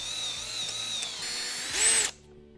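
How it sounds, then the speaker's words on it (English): A power drill whines steadily at close range drilling out holes in an old motorcycle brake pedal, its pitch shifting slightly, then rising briefly before cutting off abruptly into near silence. "I'm gonna have to drill these holes out."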